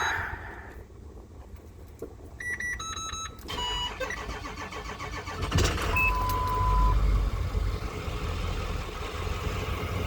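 An ambulance engine cranks in the cold with a few clicks and chimes, catches, and settles into a steady, throaty idle that continues to the end.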